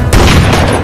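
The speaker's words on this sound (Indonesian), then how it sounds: "anak buah Garcia tiba dan melepaskan tembakan" Gunfire rings out in a cartel action movie scene, a loud, dense burst of booming shots lasting under a second, with no talk over it.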